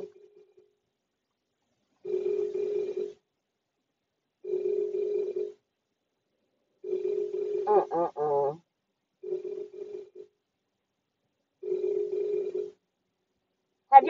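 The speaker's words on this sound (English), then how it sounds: "Have y'all ever heard a phone ring this long?" A telephone rings on and on, six long rings spaced evenly with short silent gaps, fairly close and clear, with a brief stray sound partway through and nothing else around them.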